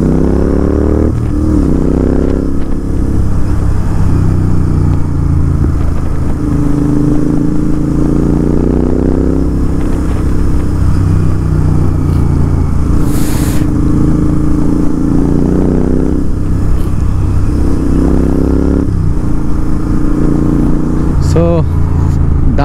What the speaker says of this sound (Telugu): బేసిక్గా మన బైక్ సౌండ్ని ఎంజాయ్ చేయండి.